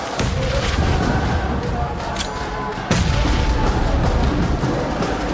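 Grenade explosions go off in a PUBG Mobile esports match, with several sharp, loud blasts that stand out over busy game noise while a commentator talks.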